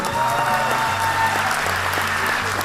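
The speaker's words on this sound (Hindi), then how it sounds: "एक बार जोरदार खुद के लिए ताली बजा दीजिए" Steady, strong applause from a seminar audience clapping for themselves, with music playing underneath.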